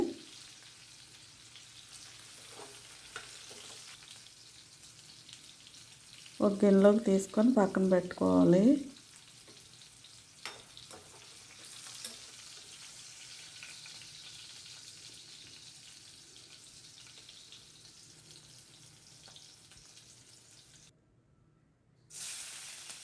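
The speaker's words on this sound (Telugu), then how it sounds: "దొండకాయలు బాగా వేయించుకోవాలండి వేగిన తర్వాత అవి ఏగినాయో లేదో చూసుకొని అవి తీసేసుకోవాలి" A faint, steady sizzle of ivy gourds frying in oil runs throughout, with a short stretch of speech partway through.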